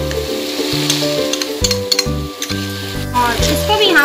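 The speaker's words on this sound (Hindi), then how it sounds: "अब इसमें हम ये पिसा हुआ टमाटर डाल देंगे" Ground tomato goes into a pan of onions already fried in oil, and a loud, close sizzle follows. A spoon scrapes the pan steadily while a steady tonal hum runs underneath.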